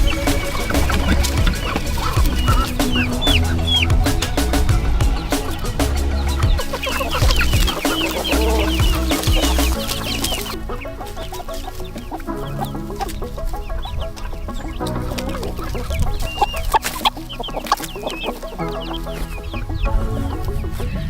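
Chickens cluck continuously nearby, many overlapping calls and squawks from a busy flock, with no one talking.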